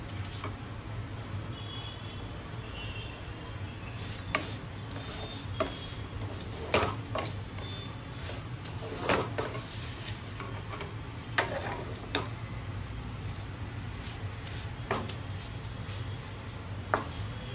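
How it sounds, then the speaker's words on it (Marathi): Food is stirred and roasted in a pan for mawa kheer: faint, scattered taps and scrapes of a spoon over a low, steady background hum, quiet and unhurried. "आपण त्याला थोडंसं स्टर करून घेऊया, चांगल्याने भाजून घेऊया।"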